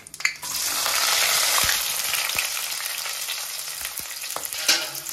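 Onions sizzle and fry in hot oil with whole spices for a native-style mutton boti fry, a steady close hiss broken by a few sharp clicks and stirring knocks from the pan.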